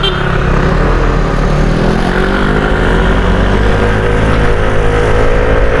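A QJMotor Fortress 160 motorcycle drones steadily during a test ride, a close, loud, continuous engine note mixed with heavy wind rush, with a voice faintly present.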